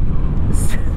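A Moto Guzzi V7 Sport motorcycle cruises in sixth gear at about 3500 rpm and 90 km/h, its engine a low, continuous rumble mixed with wind noise, partly under a rider's voice.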